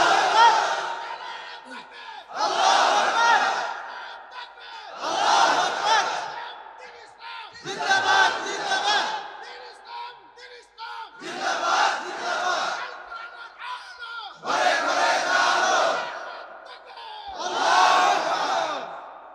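At a Bengali Islamic tafsir gathering, a large crowd answers a takbir call with repeated loud unison chants of Allahu Akbar, about seven rhythmic roaring bursts separated by short pauses.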